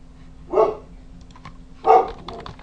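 A dog barks twice, about a second apart, fairly close, with faint keyboard tapping in the quiet between barks.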